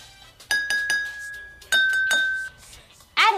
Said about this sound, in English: Use a spoon to tap each glass and compare the pitches.